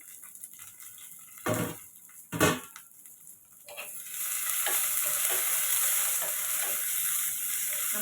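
Onions, curry leaves and coriander stems dropped into hot oil, a couple of stirring clanks and then a loud, steady sizzle as the frying takes off, with no talk.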